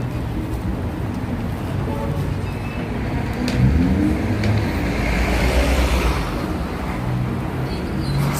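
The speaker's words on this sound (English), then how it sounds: "that bus is going to Staten Island somewhere" City bus moving through New York City street traffic, a steady loud roadway rumble of engines and tires with a low engine swell partway through, no voices.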